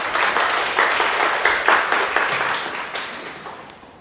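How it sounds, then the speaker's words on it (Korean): An audience at a Korean talk event breaks into applause, a full round of many hands clapping that holds steady, then gradually thins and fades toward the end. "박수 한번 주시죠."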